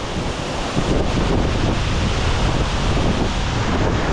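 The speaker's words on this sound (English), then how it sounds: "You see the wall of water just pushing through the trees there." A waterfall at Big Falls in Washpool National Park, NSW, Australia, gives a steady, loud, close roar of cascading water, with wind buffeting the microphone throughout.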